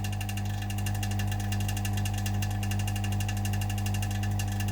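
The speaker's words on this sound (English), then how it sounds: "I don't know if you heard me over the vacuum pump" Vacuum pump running steadily to degas wild mango epoxy resin poured around wood, a loud continuous mechanical hum with a fast pulsing whir throughout, no voices over it.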